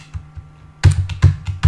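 A computer keyboard being typed on, a few light taps followed by a louder burst of quick, close keystrokes in an uneven rhythm.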